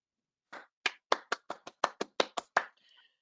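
One person claps alone on a video call: about ten separate, crisp claps in a loose, slightly uneven rhythm, close to the microphone, followed by a faint rustle.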